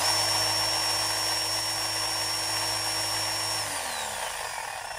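DeWalt hammer drill on a test run, a steady high motor whine held for several seconds before spinning down near the end, close and moderately loud.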